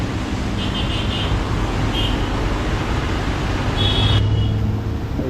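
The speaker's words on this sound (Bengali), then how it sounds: "বৃষ্টি পড়ছে" Heavy rain pours onto a road in Bangladesh, a steady broadband wash with passing car and CNG traffic rumbling beneath it, constant and moderately loud throughout.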